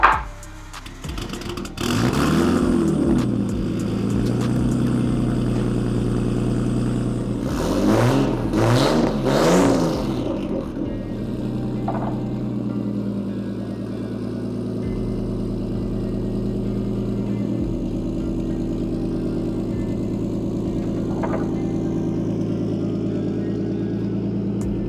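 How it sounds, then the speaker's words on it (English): A JDM Nissan Laurel pulls away on a test drive, its engine revving up twice with rising and falling pitch, then settling into a steady, loud drone as the car moves off. "Reed's gonna take it on a test drive right now."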